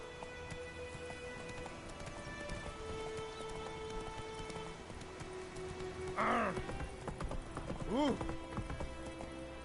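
Roach, the horse in The Witcher 3, gallops with steady, soft clip-clop hoofbeats under rain-like ambient patter and game music. A voice briefly exclaims in the middle, and a few tonal swoops rise above the hooves.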